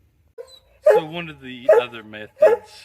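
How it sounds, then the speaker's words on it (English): A dog barks and whimpers in the background of a garden while someone talks over it in the foreground, the canine sounds faint and intermittent beneath the voice. "as you can hear the dog in the background"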